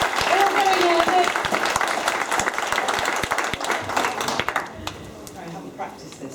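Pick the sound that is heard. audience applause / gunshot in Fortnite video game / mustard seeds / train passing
audience applause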